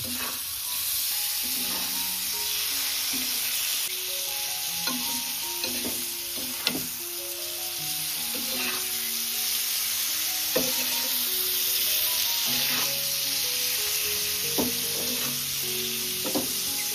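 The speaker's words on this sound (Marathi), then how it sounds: "आता आपण माकली ऍड करू. परतून घेऊ." Squid pieces frying with sautéed spices in a pan for tava makli fry, stirred repeatedly; a steady sizzle runs throughout with clear scraping and clinking of the spoon against the pan, close and fairly loud, no talking.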